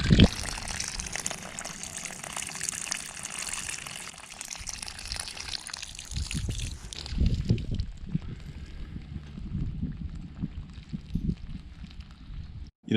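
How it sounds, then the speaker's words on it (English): Water gushes steadily from a garden hose at the spot where it was just mended with a clamp-style hose mender, a continuous close splashing flow with no talk. "the water's coming out there."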